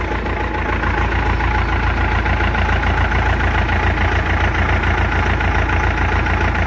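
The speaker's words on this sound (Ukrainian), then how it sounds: "Зараз я трошки газану, подивлюся, як воно буде на обертах" The engine of a Claas SF combine harvester runs loud and close with a rough, steady heavy drone and no clear rise in pitch, constant throughout with no voices.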